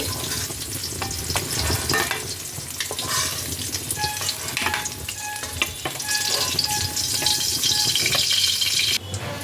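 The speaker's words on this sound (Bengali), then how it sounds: "এবার তেলের মধ্যে দিয়ে দিচ্ছি বড়ি বড়িগুলোকে হালকা লালচে করে ভেজে নিতে হবে" Oil sizzles and crackles steadily as lentil dumplings fry until lightly reddish, with occasional stirring scrapes throughout and a brief louder burst near the end.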